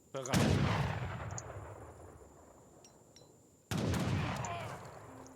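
Two heavy booms of musket and artillery fire from an Age of Empires III battle, each a sharp loud blast trailing off in a long decaying roar, with faint clicks in between.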